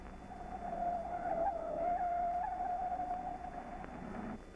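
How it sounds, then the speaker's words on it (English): A car reverses around a curve during evasive driving, its engine droning steadily at a constant pitch for several seconds, fairly loud and near, with no voices. "When on a curve, go into reverse to gain the cover of the curve and break visual contact."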